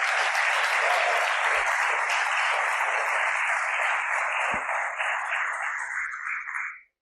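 A church congregation applauds loudly and steadily for several seconds, a dense, even wash of clapping that fades out at the end, with a couple of low thumps underneath.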